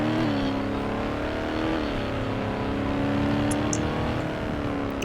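Car accelerating in the driving game Taxi Boss, a steady engine drone with rising and shifting tones, continuous and fairly close throughout, with no talk over it.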